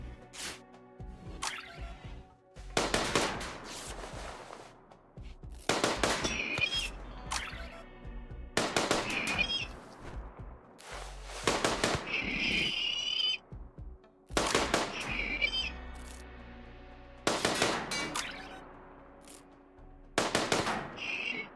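Team gunfire in the video game Rimdark40K Grimworld, with loud repeated volleys of shots every few seconds, each burst followed by brief ringing tails, alone with no talk.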